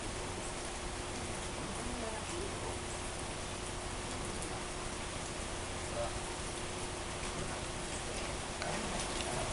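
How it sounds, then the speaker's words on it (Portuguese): Rain falling outdoors as a steady, even hiss with faint ticking drops, continuous and moderately quiet throughout. "Tá chovendo aqui."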